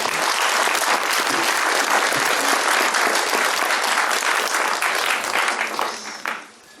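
Sustained applause from an audience at a museum lecture welcoming archaeologist Jorge Calero Flores, dense and steady for several seconds before tapering off near the end.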